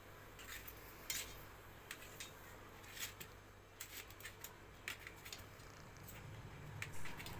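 Knife slicing through paneer on a board, a series of light, irregular taps and clicks from the blade, fairly close and quiet, with no talking.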